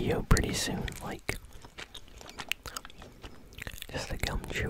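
Gum chewing close to the mic during a relaxing ASMR session of Fortnite play, with soft wet smacks and mouth clicks in an uneven rhythm and quiet whispering mixed in.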